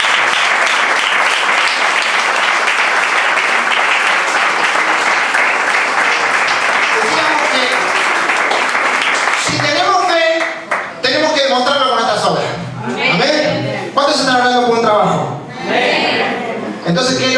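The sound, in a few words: church congregation applause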